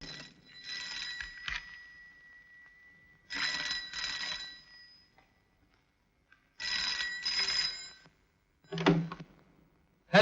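An old-style telephone bell rings indoors in repeated bursts of trilling, about four rings separated by short silences, loud and clear with no voices.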